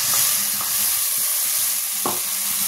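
Spice paste of tomato and cashew stir-fries in oil for a yogurt catla fish curry, giving a continuous sizzle with repeated scraping strokes of a spoon and one sharper knock near the end.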